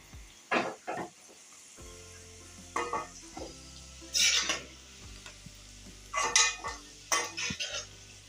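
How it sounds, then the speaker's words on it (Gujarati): Ivy gourd (tindora) frying in oil, a soft continuous sizzle beneath several sharp scrapes and clinks of a metal spoon stirring against the pan, coming in short irregular bursts. "આપણે આ રીતના ટીંડોરા થાય ને ત્યાં લગી એને તળાવા દેવાના છે"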